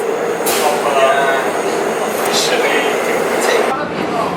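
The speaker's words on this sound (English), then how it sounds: "we're on the subway now" A subway train in Seoul rides along with a steady rumbling hum inside the car, punctuated by a few brief hissing swells, continuous and close.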